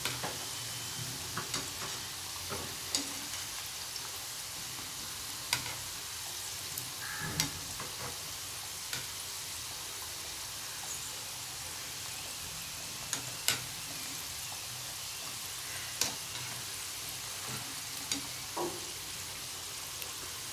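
Badusha sweets frying in oil over a medium flame, a steady soft sizzle with faint bubbling and occasional light clicks and stirs, heard close and alone without voices.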